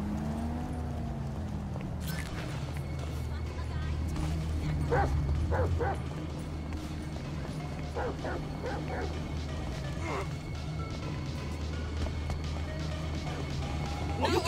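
A dog at the beach gives short, fairly faint barks and yips in scattered bursts over steady background noise, with people talking nearby.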